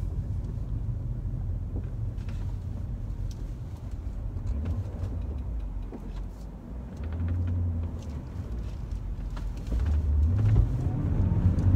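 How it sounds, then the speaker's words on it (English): 2000 BMW E39 M5 sedan exhaust, heard from inside as a steady low rumble while driving, swelling slightly with throttle near the end, no talking. "Got a nice exhaust note."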